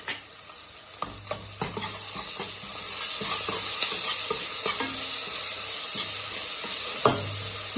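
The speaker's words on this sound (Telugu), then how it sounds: "అల్లం వెల్లుల్లి పేస్ట్ వేసుకోవాలండి. పచ్చి వాసన పోయే వరకు మనం ఫ్రై చేసుకోవాలి." Ginger garlic paste frying in a pot for fry piece biryani, a continuous sizzle broken by repeated spoon scrapes and knocks against the vessel, close and moderately loud with no talking.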